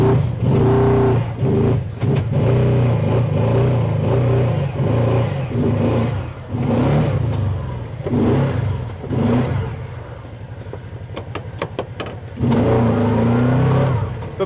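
A car stuck in desert sand revs its engine hard in repeated bursts. The loud whine rises and falls with brief lulls, and faint voices sound in the background.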